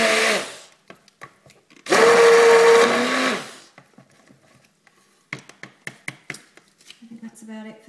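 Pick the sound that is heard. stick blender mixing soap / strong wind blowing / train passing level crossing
stick blender mixing soap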